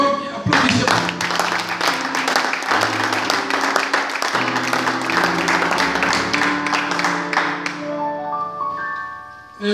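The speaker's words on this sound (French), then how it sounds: "On doit applaudir pour la gloire de Dieu. Applaudissez." Church congregation clapping in praise during a worship service, loud rhythmic applause mixed with music and voices, fading toward the end.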